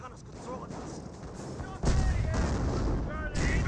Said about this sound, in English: Cromwell here does receive a shot there from the Panther